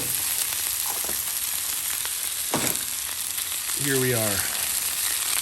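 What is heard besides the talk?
beef bacon sizzling on a Blackstone griddle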